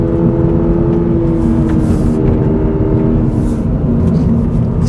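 Toyota GR86 from 2022 powering out of a corner after a light brake, its engine note loud and steady throughout with a constant rumbling drone and faint rising tones, no voices.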